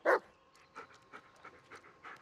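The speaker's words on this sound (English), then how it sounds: "you're being a good dog. You're not barking at everything" A dog companion in a video game pants in short, rhythmic breaths after one louder opening huff, quiet and close, repeating about every half second.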